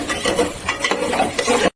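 Bay leaf and dried red chili fry in oil in a pan, a close crackling sizzle broken by scraping stirs, stopping abruptly at the end with no talk.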